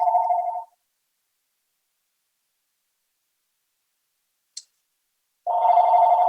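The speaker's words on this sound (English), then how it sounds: "So I apologize for the phone in the background." A telephone rings in the background of a battery and cobalt conference talk: a steady electronic trill cuts off, then after a long silence and a faint click another ring begins.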